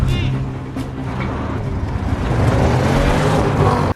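Cars roar through a chase scene in an action film, with a dense, continuous engine rumble and revving that swells louder toward the end before cutting off abruptly.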